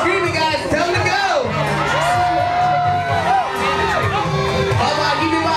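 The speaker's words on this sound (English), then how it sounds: "Keep on screaming, guys. Tell them to go." A crowd at a Gatorland alligator show screams, shouts and cheers loudly and continuously, with children's high voices prominent and a nearby voice speaking over the din.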